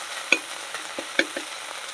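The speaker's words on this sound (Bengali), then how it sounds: "আদা আর জিরেটা এবার নেড়ে নেবো আমি" Ginger and cumin paste fries softly in a pan, stirred with a few sharp spoon scrapes and taps against the metal over a faint steady sizzle.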